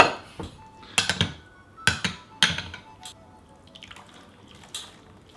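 Water splashes and pours in several short bursts while rinsing raw puerh tea leaves, followed by scattered light drips and trickles close by.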